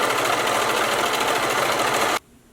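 A sewing machine stitching the folded waistband of shorts, a steady fast mechanical whir and needle chatter running loud and close before stopping suddenly.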